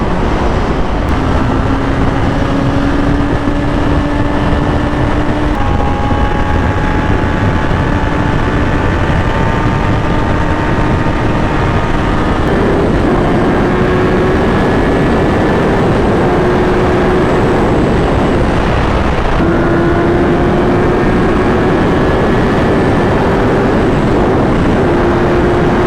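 A Kawasaki ZX10R 1000cc sport motorcycle being ridden, its engine droning loud and close throughout. Pitch climbs steadily through each gear, then drops at the shifts around five, twelve and nineteen seconds, with wind roar underneath.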